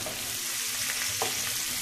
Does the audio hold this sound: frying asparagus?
yes